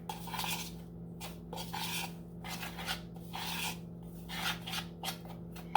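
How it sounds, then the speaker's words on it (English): Seasonings being mixed together in a bowl for homemade keto onion rings, a soft scraping and rubbing in repeated short strokes, close and quiet, with no talking. "mix the seasonings together"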